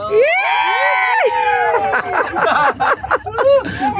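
Several people shout and call out together in an outdoor group fishing outing, loud overlapping voices with bursts and pitch swoops continuing throughout.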